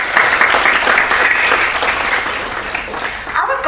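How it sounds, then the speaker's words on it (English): Steady applause from a crowd at a college prize distribution function, loud and continuous throughout, easing slightly toward the end before picking up again. "A round of applause again."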